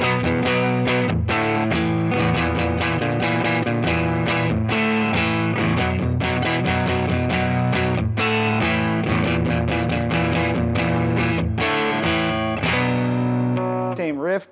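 A distorted electric guitar riff plays loud and continuous through a Fender Tone Master Deluxe Reverb amp, driven hard with dense, steady chords and single notes from start to end.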